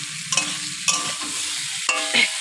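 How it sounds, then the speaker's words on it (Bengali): Spices frying in a pan and stirred with a spoon, close scraping strokes over a steady hiss of hot oil, several stirs in quick succession with no talking. "ভালো করে একটু ভেজে নেবো"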